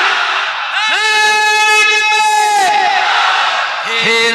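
A crowd at an Eid Milad-un-Nabi religious gathering in Canning, near a bus stand, roars a loud unified Naraye Takbir chant in long sustained shouts, with a second burst starting near the end.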